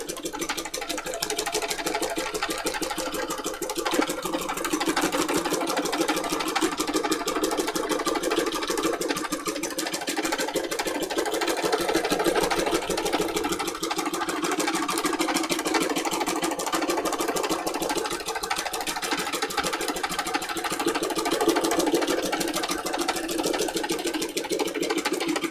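A domestic sewing machine stitches continuously during free motion embroidery on a junk journal cover, a fast, even mechanical whirr and rapid needle chatter held at steady speed throughout.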